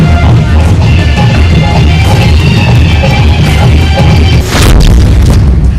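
Fireworks boom loudly and continuously at a wedding baraat procession in Sitamarhi, a dense rumbling barrage of close bursts with a sharp crack near the end.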